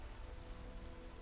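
Steady rain falls in the Skyrim video game, a soft, even hiss of drops that carries on alone with no talking over it.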